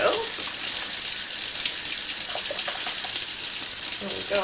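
Water runs steadily from a sink tap as makeup tools are rinsed clean, a constant close hiss and splash that holds level throughout without a break.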